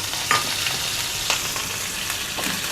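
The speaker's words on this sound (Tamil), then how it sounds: "கருவேப்பிலை கொஞ்சம் எண்ணெயில் பொரிஞ்சோடனே நம்ம சட்னியை உள்ளே ஊற்றிடலாம்." Curry leaves frying in hot oil after mustard seeds and urad dal for a spicy chutney tempering, a steady close sizzle broken by a few sharp crackles and stirring clicks, with no voices.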